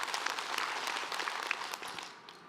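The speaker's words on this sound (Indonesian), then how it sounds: "Tepuk tangan buat guru kita Habib Muhammad Syahab." A studio audience applauds a religious teacher on an Indonesian Islamic television program, giving a steady wash of clapping that tapers off at the close.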